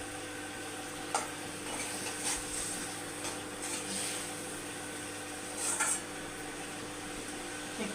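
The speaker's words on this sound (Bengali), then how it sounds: "ভালো করে এটা নেড়ে চেড়ে কষে নিতে হবে যাতে গন্ধটা না থাকে।" Spices fry in a pan while being stirred, giving a soft, continuous sizzle with a few scraping and clinking strokes, quiet and close with no voices.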